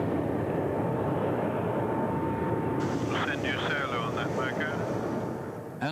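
Civil light aircraft in flight pulling out of a dive, a steady loud broadband engine and wind roar running throughout, with a person talking over it partway through.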